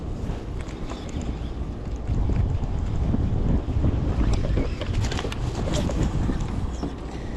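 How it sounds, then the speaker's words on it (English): Wind buffets the microphone while kayak fishing for spring bass, a loud, continuous roar with gusty swells and water lapping beneath. "Windy, windy, windy."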